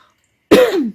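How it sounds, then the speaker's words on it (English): One short, fairly loud cough or throat-clear brought on by allergies, close to the listener and alone, with a rough burst that trails off. "it stirs up my allergies and I cough"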